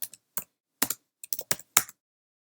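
HTML code is typed on a computer keyboard in a few sharp, close keystrokes arriving in small irregular clusters with short silent gaps between them.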